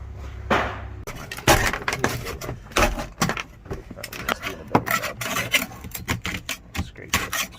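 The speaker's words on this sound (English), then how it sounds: "Scrape it right off." Scraping material off a part of an EF Honda Civic during a roll cage build, a series of close, irregular rasping strokes and scrapes with uneven bursts and short pauses, no speech.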